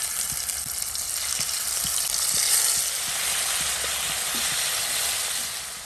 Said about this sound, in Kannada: ಈಗ ಸಿಗಡಿಯನ್ನು ಫ್ರೈ ಮಾಡುವ.